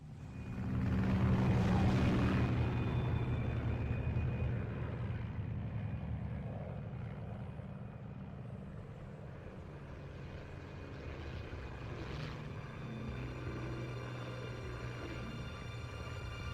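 A propeller aircraft drones steadily in the Metal Gear Solid 3: Snake Eater game, flying over Pakistan, its engine swelling louder early on then holding a faint, even hum with a thin high tone above.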